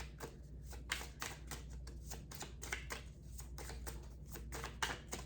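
Cards riffle and slap in quick, rapid bursts, close and soft, a steady ripple of shuffling with brief pauses, no voices.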